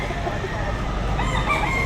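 Rooster crowing amid the bustle of a poultry market in Batangas, a single crow over busy background noise and nearby chatter.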